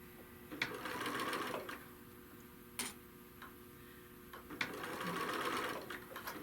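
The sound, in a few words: sewing machine stitching a bag handle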